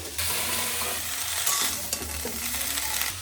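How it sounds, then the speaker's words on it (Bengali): Cut vegetables frying in a pan make a dense, steady sizzle, close and fairly loud, with occasional stirring clatter. "সবজিগুলো ভাজা ভাজাও হয়ে গেছে।"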